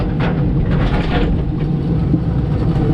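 A Komatsu PC88-8 excavator's diesel engine rumbles steadily and loudly at close range while ripping out wire-reinforced concrete slabs, a constant low drone with faint intermittent rattles and no speech.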